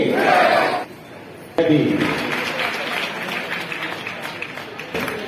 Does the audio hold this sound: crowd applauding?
yes